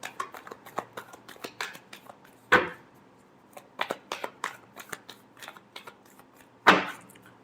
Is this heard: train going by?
no